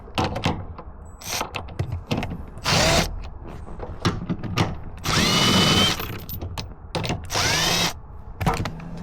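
A power tool with a 15mm socket removes the front seat bolts on a 2011–2021 Dodge Durango 5.7L HEMI, giving several short, loud whirring bursts with ratchety clicks and clunks in between.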